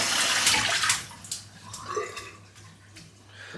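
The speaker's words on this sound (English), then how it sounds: "That water running, I'll rinse the brush out." Tap water runs and splashes as a shaving brush is rinsed, loud at first and then easing into softer trickles and drips close by, with no one talking.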